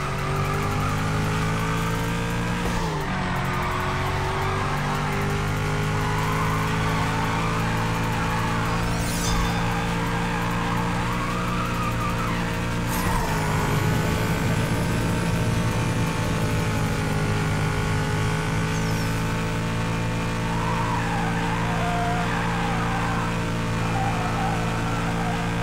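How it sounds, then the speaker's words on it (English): Car drifting in Need for Speed No Limits, a Koenigsegg One:1 at full throttle: a loud, sustained engine drone with continuous tire squeal and skidding, rising and falling as the car slides through turns. "Again, do some more drifting"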